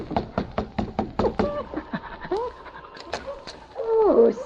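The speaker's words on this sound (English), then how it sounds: "the 2 Mounties knocked on the door of Hazel's boarding house." Mounties knock on the wooden door of Hazel's boarding house: a quick series of sharp raps, followed by softer thuds and a brief animal sound near the end.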